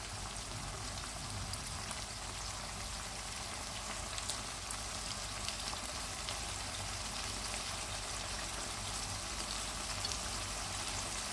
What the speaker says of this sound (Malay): Saya nak tambahkan lagi kicap manisnya.